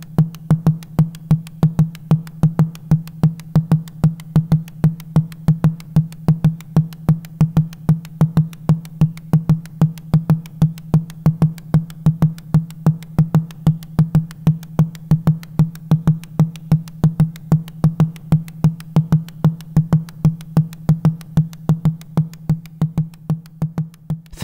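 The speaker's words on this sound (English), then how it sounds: "Using the sequencer, it would look and sound like this." A vintage synthesizer sequencer plays a 7/12 Euclidean rhythm, a steady stream of short, pitched electronic pulses with a fixed low tone. The looping pattern repeats without change for about 24 seconds, loud and clean with no talk.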